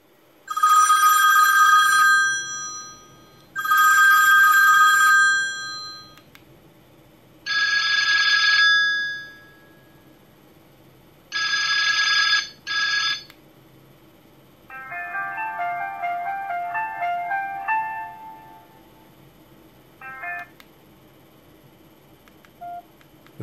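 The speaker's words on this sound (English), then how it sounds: "the last thing we want to do is to hear the ringtones" A series of electronic ringtones from a Y2K V388 feature phone: several bright, repeated tone bursts with short pauses, followed by a warbling melodic jingle and a brief final chirp.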